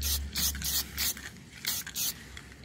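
An aerosol can sprays onto rust on a BMW 325i, hissing in short repeated bursts, about six sprays in quick succession, loud and close.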